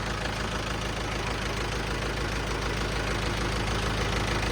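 A hot tractor engine runs close by with a steady, dense, rumbling roar that holds an even level throughout, with no pauses or changes.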